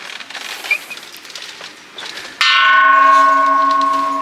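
Loud temple bells at a jungle wat in Chiang Mai, Thailand, struck close by and ringing out with long sustained metallic tones after quieter outdoor ambience.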